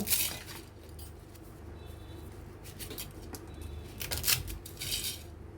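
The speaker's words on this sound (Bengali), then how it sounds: "নুডলসগুলোকে ঠিক এভাবে ভেঙে নেব একটি নুডলসকে তিন তিন ভাগ করে নেব" Dry noodles snapped by hand into pieces, a string of close crisp cracks and crunches with light rustling between them, no talking.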